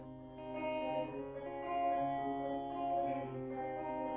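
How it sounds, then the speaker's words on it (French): Sustained synth chord drenched in reverb turned to maximum in FL Studio, a dense washing tail with swelling loudness and steady tonal layers, heard alone without talk. "nous entendons beaucoup plus la reverb."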